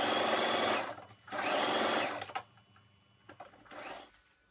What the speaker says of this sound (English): Then you take it to your sewing machine and stitch from here to here.